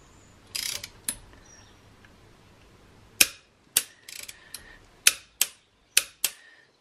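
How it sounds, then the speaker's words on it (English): A torque wrench clicks and ratchets while tightening an ARP head stud nut to 85 newton metres on a Honda D16 engine, with a few early clicks, then a steady series of sharp, close ratcheting clicks spaced under a second apart. "And I'm going to torque this up to 85 Newton meters."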